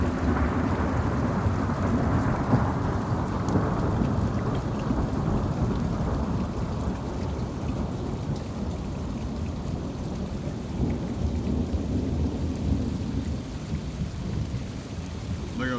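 A severe thunderstorm in Toms River brings a deep, long rolling rumble of thunder over heavy, constant rain, loud and unbroken throughout with no talking.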